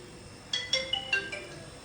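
A mobile phone ringtone plays an incoming-call melody, a short run of bright electronic tones rising over a quiet room, with no one talking.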